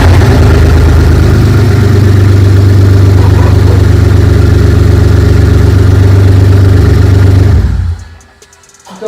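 A BMW E46 drift car's engine runs loudly at a steady, rough idle, close and dominant, for about eight seconds before cutting out into near silence.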